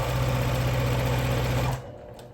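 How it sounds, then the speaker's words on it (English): A sewing machine chain-pieces quilt block fabric, a loud close steady motor whir with rapid needle chatter that cuts off near the end, leaving quiet room tone. "So I'm just going to be chain piecing these."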